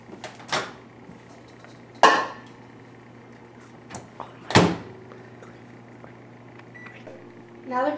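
A countertop microwave door is opened and shut as a block of cream cheese goes inside, with several separate clunks and clatters spaced seconds apart, close and sharp over a low steady hum.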